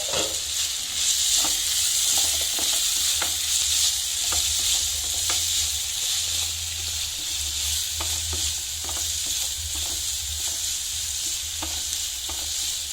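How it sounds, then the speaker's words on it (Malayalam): Vegetables frying in a pan for pasta noodles hiss with a loud, continuous sizzle, while a spoon stirs them in repeated scraping strokes throughout, with no voices. "നമ്മുടെ വെജിറ്റബിൾസ് ഒക്കെ ഒന്ന് നമുക്കൊന്ന് ഇളക്കി കൊടുക്കാവേ"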